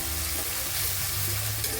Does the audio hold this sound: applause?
no